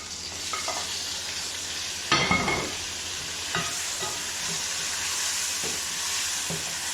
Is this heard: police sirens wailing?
no